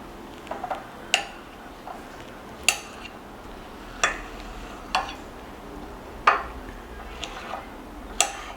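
Knife tapping a cutting board while fruit jelly is cut into small pieces for a fruit jelly cake, giving sharp, sparse clicks at irregular intervals with quiet pauses between them and no talking.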